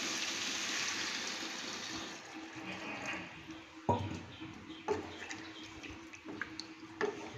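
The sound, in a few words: water poured into pan of rohu fish curry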